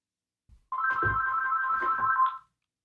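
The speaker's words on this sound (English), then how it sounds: "Is that Bob Stoops calling?" A phone ringtone rings during a sports talk show: a bright electronic melody plays loudly for under two seconds, then cuts off, with brief low talk and thumps around it.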